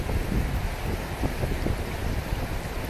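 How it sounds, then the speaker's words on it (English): Wind gusts blow outdoors beside the Naches River, buffeting the microphone with a continuous rough rush that swells and dips irregularly. "We got a nice wind, things cool down."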